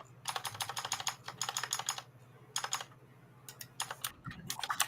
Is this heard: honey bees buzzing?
no